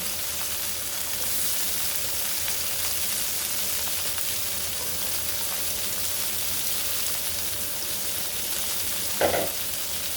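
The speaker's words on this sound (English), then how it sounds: "And then I'm also adding my onion." Onion sizzling in a hot pan for a broccoli beef stir fry, a steady close frying hiss that holds evenly throughout, with one brief louder crackle near the end.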